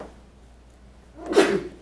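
A single soft sneeze, brief and fairly muffled, after a moment of near silence.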